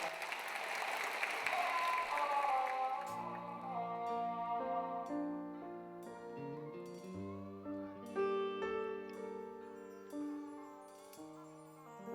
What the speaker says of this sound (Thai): ปรบมือต้อนรับสองศิลปินช่วงนี้ครับ